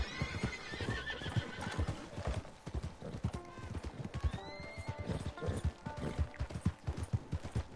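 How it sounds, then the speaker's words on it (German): Several horses whinny and neigh in the western video game Red Dead Online. The repeated calls come over a busy, steady clip-clop of hooves, loud and close. "wie viele Pferde hier sind"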